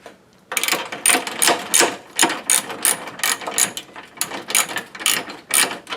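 A hand ratchet clicks in quick, rhythmic bursts while bolts are tightened on the front lower control arm of a 1994 Saab 9000, close and crisp with brief pauses between strokes.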